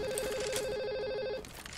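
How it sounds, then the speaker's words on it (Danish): Phone ringing with a steady electronic trill that stops after about a second and a half, fairly clear over faint background game sound. "Nu er der en, der ringer til mig."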